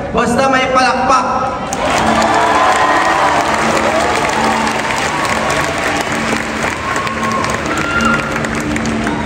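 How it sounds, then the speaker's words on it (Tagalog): Crowd applause for a street guitarist performer, a loud, sustained wash of clapping and cheering voices from an audience close around, with some talk and crowd noise mixed in throughout. "basta may palakpak."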